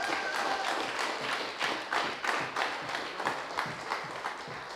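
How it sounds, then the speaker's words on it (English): Scattered applause from a crowd at a political party youth event, with uneven claps pattering steadily and a few louder hits standing out. "Give this man a round of applause."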